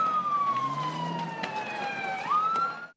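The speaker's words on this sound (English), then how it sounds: "the sound of emergency sirens filling the air in the immediate aftermath of the blasts" Emergency vehicle sirens wail after explosions at a fireworks market, one clear gliding tone falling and then rising again, with a second siren sweeping lower in the distance.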